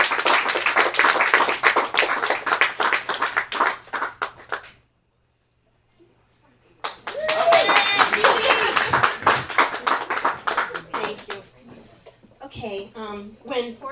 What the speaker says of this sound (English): Please give Judy a big round of applause